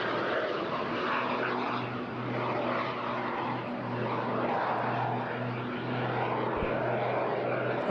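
Propeller aircraft performing final manoeuvres at the Eastbourne International Airshow, a steady loud engine drone with a constant low hum throughout, broad and continuous as it flies past.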